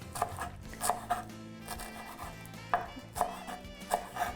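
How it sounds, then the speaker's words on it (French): A knife finely chops fresh coriander on a board, giving a quiet run of soft, irregular taps close by. "Donc ça, je vais hacher finement."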